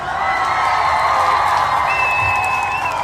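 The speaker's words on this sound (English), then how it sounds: "Let's go on and give everybody a round of applause" A crowd at a gathering gives a sustained round of applause mixed with cheering and whoops, a continuous loud wash of clapping and voices from start to finish.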